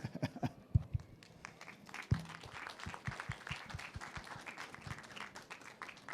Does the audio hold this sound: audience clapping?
yes